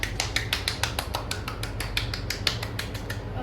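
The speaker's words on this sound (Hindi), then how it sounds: "आप पकड़ो, फिर मैं ताली बजाती हूँ" Hands clap in a quick, even rhythm of nearly twenty sharp, close strikes over a low background hum.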